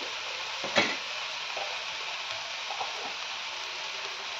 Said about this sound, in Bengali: দিয়ে এটাকে আবার নেড়ে চেড়ে নেব একটু, যাতে ধরে না যায়।